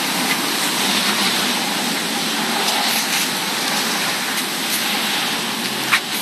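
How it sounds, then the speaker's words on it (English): Steady, dense rain from a severe thunderstorm pours down in a constant hiss, loud and close, with no voices and only a faint knock near the end. "Wow, this rain is gonna pick up."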